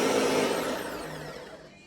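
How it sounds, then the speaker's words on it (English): A kitchen blender whirs loudly as it grinds cheese chunks into powder, a dense steady motor roar that eases off slightly toward the end, with no talking. "I just basically put all those cheese chunks in the blender"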